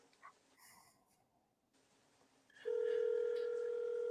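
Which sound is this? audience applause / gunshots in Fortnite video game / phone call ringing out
phone call ringing out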